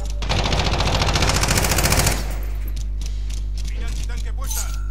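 Machine gun fire in the Call of Duty video game: a loud, rapid sustained burst for about two seconds, then quieter game ambience with faint mechanical clicks.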